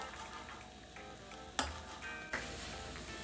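Paneer fried rice stir-fried in a pan, with a steady sizzle and two sharp scraping clatters of a spatula or ladle, heard alone without talk.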